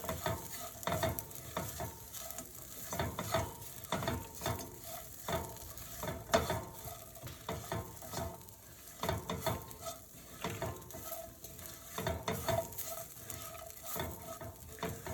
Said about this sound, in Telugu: అన్నీ బాగా మిక్స్ అయ్యేలాగా కలుపుకోవాలి.